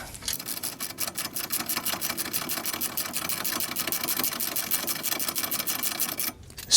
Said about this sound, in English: We'll crank these down and then torque them up to 74 foot-pounds.